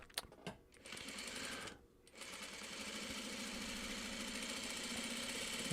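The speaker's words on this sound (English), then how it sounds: "Let me concentrate and get this seam in." Sewing machine stitching a seam while someone sews fabric scraps together, a steady close mechanical whir running almost continuously with a short pause near the start, no talk over it.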